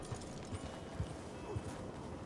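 Horse hooves clip-clopping in Red Dead Redemption 2, a soft, uneven series of dull thuds at moderate distance over a steady background of game ambience.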